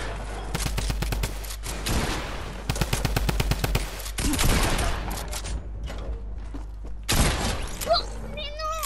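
Video game gunfire comes in rapid automatic bursts, with sharp rhythmic volleys and a few heavier single cracks like sniper shots. The bursts are loud and close and are separated by brief quieter gaps.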